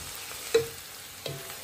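Liver and onions sautéing in a pan for a Sri Lankan Jaffna-style clam curry, a soft sizzle marked by two brief scraping knocks of a stirring utensil, near and without voices.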